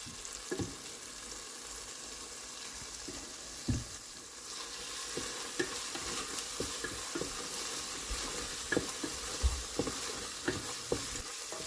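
A meatball mixture with spices sautés in a pan, a low steady sizzle punctuated by repeated scraping and tapping of stirring, close up with no talking.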